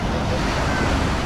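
Warm ocean waves at sunset make a steady, loud rushing wash of surf mixed with gusty wind noise on the microphone.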